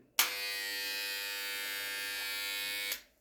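A Wahl WahlClip electric hair clipper with a non-detachable mains cord switches on and buzzes steadily at close range for nearly three seconds, then cuts off abruptly, with no talking.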